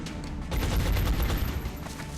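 Gunfire in the turn-based strategy game XCOM: Long War, a short burst of rapid rattling shots over about a second and a half, dense and fairly loud, with no speech.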